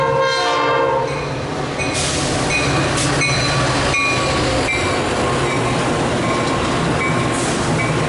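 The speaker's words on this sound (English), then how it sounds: "The last train to close off the night was a Metra outbound," A Metra outbound commuter train passes at night in the Chicago area, its loud rumble and clatter filling the clip while the horn sounds in repeated blasts near the start and middle.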